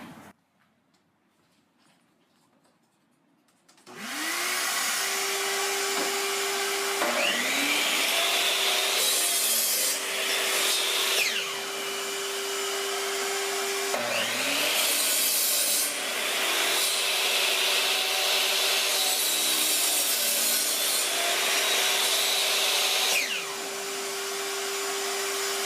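A power saw cuts wood into a Rockler small port hose kit for dust collection, starting after a few quiet seconds with a steady loud whine and repeated rasping cuts, the motor droning continuously between them.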